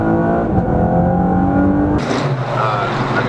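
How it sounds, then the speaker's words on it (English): 2019 Chevrolet Camaro RS with a V6 engine revving, a loud rising engine tone heard from inside or near the car with a voice talking over it, changing character partway through. "a freaking awesome Chevy Camaro here with the V6 engine inside of it"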